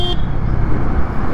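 Cars roll past on a busy road in Khunti, a loud continuous roar of traffic with a short horn toot at the very start and another brief honk near the end.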